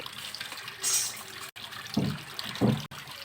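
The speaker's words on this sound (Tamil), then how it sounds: "பார்த்தீங்கன்னா தண்ணி நல்லா வந்துக்கிட்டு இருக்குது" Water gushes steadily from a submersible borewell motor pipe, a continuous rushing splash with a few heavier surges, close by with no talking.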